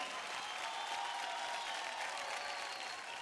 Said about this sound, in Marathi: जोरदार टाळ्या होऊन जाऊ द्या पुण्यकर आणि ऋतुजासाठी.